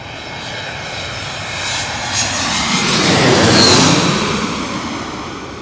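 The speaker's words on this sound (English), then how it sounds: "this is my favorite spot to plane spot because the planes fly directly over our heads" An airplane passing directly overhead near LaGuardia Airport in Queens, New York, rising into a loud, roaring engine sweep that peaks midway and then slowly fades.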